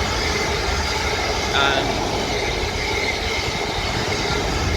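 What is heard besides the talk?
double set of Class 450 electric trains passing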